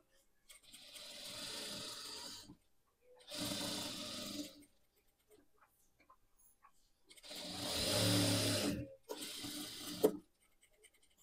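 An unthreaded sewing machine stitching over folded suit fabric to mark lines, running in four separate bursts of rapid mechanical whirring, each a couple of seconds long, with quiet pauses between.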